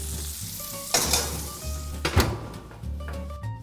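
Salmon skin frying in melting butter in a hot pan, a steady close sizzle with a few knocks and clunks of the pan being handled, no talking.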